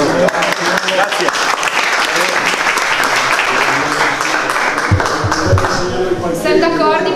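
An audience at a conference applauds the speakers, with dense, continuous clapping that fills the whole stretch at close range and a few voices calling out over it.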